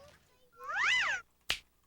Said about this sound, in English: Casey Cat stuck high in a tree.